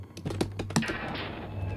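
Computer keyboard keys are tapped in a quick, uneven burst during a game speedrun, repeated Alt-Tab presses clacking close and crisp over a low background hum.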